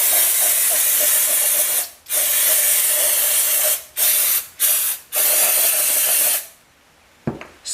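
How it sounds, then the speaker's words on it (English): A hose sprays water onto a vehicle part during cleaning, loud and close, in a series of hissing bursts: two long sprays, three short ones, then a final cutoff followed by a faint knock. "I'll spray the front, flip it, spray the back, get it good and clean."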